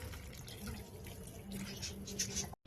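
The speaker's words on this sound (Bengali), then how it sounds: "এখানে আমি গাছে জল দিয়ে দিচ্ছিলাম।" Water pours steadily onto potted plants on a home balcony, a soft continuous splashing and trickling that runs for a few seconds before breaking off abruptly.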